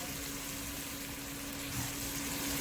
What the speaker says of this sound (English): So I'm frying my tomato paste, because you want the tomato paste to cook.